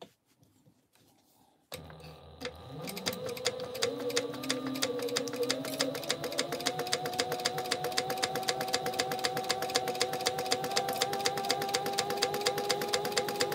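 An industrial sewing machine stitches a 3/8-inch seam allowance. A brief quiet shuffle comes first, then the motor spins up into a steady, rapid, evenly ticking run of stitches that stays loud and close.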